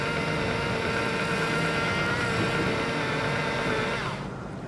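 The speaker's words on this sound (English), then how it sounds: "All you got to do is just leave it on the lowest RPM and just run it, and just put the tip in there just like this" A rotary buffer spins at its lowest speed with its pad pressed against a tip to fluff it during boat detailing, a steady loud motor hum that drops off toward the end, with no voices.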